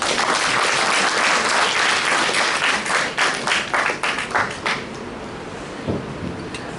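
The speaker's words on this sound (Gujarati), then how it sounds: "હવે આપને વિનંતી છે કે એમને તાળીઓથી વધાવો." Dense audience applause at a commemorative event welcoming the speaker for Umashankar Joshi's 111th birth anniversary, loud and sustained before thinning into scattered claps and fading.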